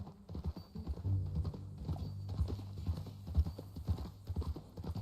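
Horse hooves clip-clop in a steady walking rhythm in Red Dead Redemption 2, close and fairly quiet, with a soft low rumble underneath.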